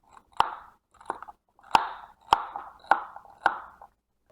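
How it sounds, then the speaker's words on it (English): Celery being chopped for chutney, six crisp knife strokes through the stalks at an uneven rhythm, each a sharp near crunch with a brief tail, separated by short pauses. "let's cut the celery"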